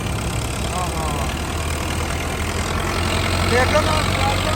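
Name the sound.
Agri Master tractor engine idling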